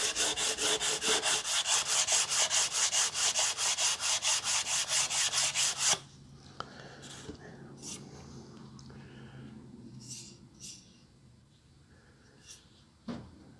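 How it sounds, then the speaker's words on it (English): A flat sanding block worked over the back of a wooden guitar neck, loud rhythmic rasping strokes repeating quickly for several seconds, then stopping, followed by quieter handling knocks and rubs. "like this is a nice flat sanding block I have to do to the back of this"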